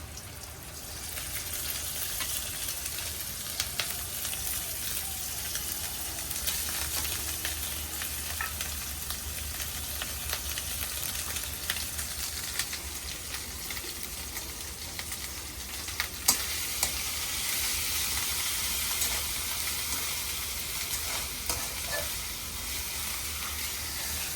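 Freshly grated and ground coconut paste, lightly spiced, sizzles while it is sautéed in a pan, a soft, continuous frying hiss with occasional small crackles and stirring sounds, fairly quiet and without speech.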